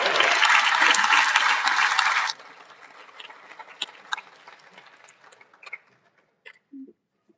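Loud, dense audience applause at an awards ceremony, sustained for about two seconds, then cut off sharply, leaving quiet room noise and faint scattered sounds.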